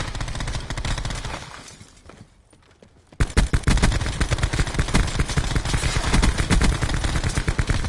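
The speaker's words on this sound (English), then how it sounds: "You're hip firing right there, aren't you?" Gun hip firing in a video game, a rapid volley of loud, close shots that fades to near silence, then resumes as a sustained burst of automatic fire.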